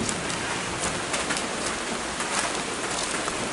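Rain pouring down at a tilapia pond, a dense, steady hiss of drops with scattered louder patters, close and even throughout with no voices.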